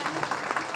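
Brief applause at a Bihar BJP joining ceremony, a crowd clapping at moderate distance in a short burst.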